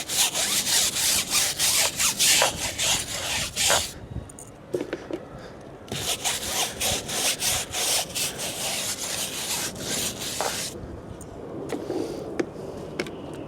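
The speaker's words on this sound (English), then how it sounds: "We then use a tire brush to clean the tire." A stiff tire brush scrubs a car tire during wheel cleaning, giving loud, rapid back-and-forth bristle strokes in bursts with short pauses between passes, close up and with no voices.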